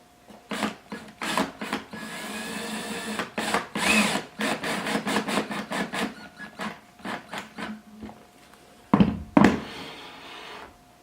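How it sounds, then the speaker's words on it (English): A screw gun driving a screw into a rustic wooden barn sliding door, in repeated short bursts of whirring with pauses between, then a louder final couple of bursts near the end. "we can get in here with our screw gun and drill this in place"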